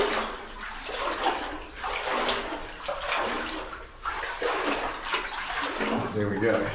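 Wading knee-deep through muddy water in an abandoned New Zealand goldmine tunnel, Talisman Level 6 in Karangahake Gorge, with continuous sloshing and splashing close by, loud and steady, under occasional voices.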